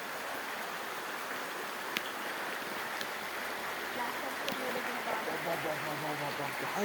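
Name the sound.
rainwater flowing like a stream down a road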